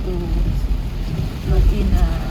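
Steady rain falls in South Pattaya, Thailand, a dense close hiss with low rumbling traffic and wind underneath, and no clear voices.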